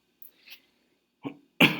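A person reading a Bible passage aloud gives a few short coughs, with sharp, close bursts separated by silence. The last burst is the loudest.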